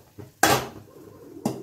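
A metal kadhai is lifted off a gas stove and set down on a kitchen surface, making one sharp clanking knock followed by a fainter second clunk a second later, close and otherwise quiet.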